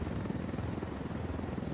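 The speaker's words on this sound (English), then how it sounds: "Oh, there's another helicopter!" A helicopter flies in the game Ghost Recon Wildlands, with its rotor making a steady, loud, close chopping throb and no voices.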